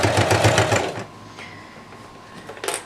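A sewing machine runs in a fast, steady burst while stitching the curved seam of a vest from a sewing kit, then stops, leaving quiet room tone and a brief clatter near the end.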